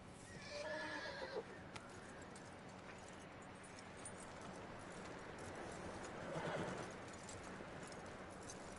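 A horse whinnies and shifts its hooves in the video game Red Dead Redemption 2, with faint clopping and a soft neigh over a low, steady outdoor background.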